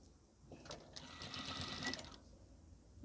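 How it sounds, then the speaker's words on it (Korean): A sewing machine runs a steady straight seam through linen while sewing a petal-shaped strap for a sleeveless dress, starting softly, swelling into a fast continuous whir for about a second and a half, then stopping, with no talking. "이제 여기는 너무 넓기 때문에 아예 박음질 해줘 버립니다."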